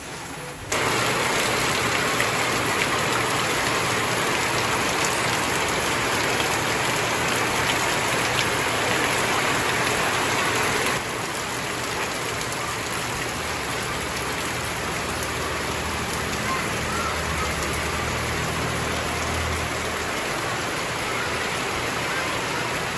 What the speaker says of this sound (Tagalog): Grabe na naman ang ulan.